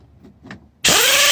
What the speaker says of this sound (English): we have the impact going the right way. We want to run them down